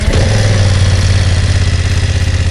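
BMW F900R naked sport motorcycle with a 900 cc two-cylinder engine catching and settling into a loud, close idle, a deep throbbing rumble with a steady pulsing beat and no voices.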